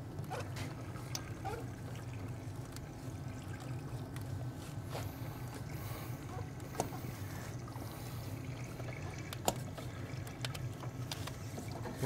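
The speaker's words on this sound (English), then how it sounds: "It sounds like it's going into an empty tank." Diesel fuel pours into an empty tank of a 1994 Dodge 12-valve Cummins truck, making a steady hollow trickling and gurgling at moderate distance, with faint background noise.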